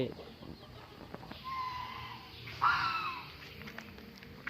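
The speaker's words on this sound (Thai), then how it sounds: "นี่คือไก่ที่ว่าบ่าวไทยเลี้ยงไว้" Farm chickens kept by a rural Thai villager cluck and call faintly at a distance, with a louder squawk near the middle and background murmur throughout.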